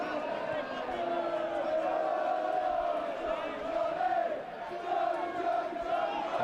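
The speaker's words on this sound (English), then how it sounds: "Good atmosphere inside this ground on the final day of the regular season. Supporters certainly making their voices heard." Football supporters at Oldham Athletic's ground on the final day of the regular season, a loud, sustained roar of chanting and cheering that swells and dips slightly across several seconds.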